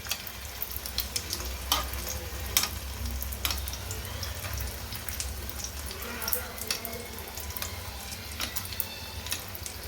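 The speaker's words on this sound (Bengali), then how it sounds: "এবার চেপে চেপে এটাকে ভালো করে ভেজে নেব।" Chicken mughlai paratha sizzles and crackles in hot oil in a pan while it is pressed down, with a dense, steady frying hiss and occasional sharper pops and scraping taps, fairly close.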